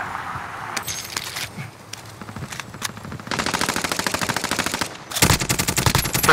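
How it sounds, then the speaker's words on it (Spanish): Rapid automatic gunfire from the Warzone video game, several bursts of dense rattling shots with the heaviest, loudest volley near the end, plus scattered single cracks and clatter earlier, with no talking. "se van a caer a tiros entre ellos"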